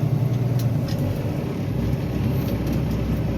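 Car engine with a manual transmission running loud and steady at a held speed while being brought up for a gear shift, a continuous rumbling drone with no pause or sharp change across the clip.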